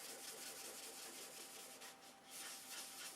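Steady, dry scratchy rubbing of sandpaper worked by hand across the bottom of a wooden piece being prepped for paint, continuous and close with a brief dip midway.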